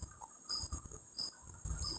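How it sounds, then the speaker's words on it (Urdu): Crickets chirping at night in a quiet house courtyard, a steady high insect trill under soft low rustling, fairly faint and unbroken. "باہر جھینگروں کی آواز تھی"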